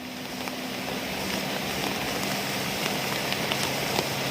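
Steady heavy rain pours without pause in a Thai forest, a dense continuous hiss with scattered drops and patter standing out, moderately loud throughout.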